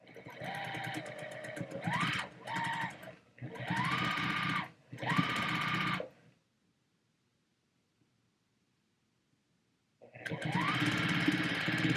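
A sewing machine stitches a quilt seam in bursts, whirring rapidly in several short runs, then falls silent for a few seconds before starting up again, close and clear.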